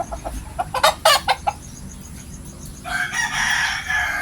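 A rooster crows nearby in a sharp, strained burst, followed by a second, fuller crow a moment later, with faint outdoor background noise.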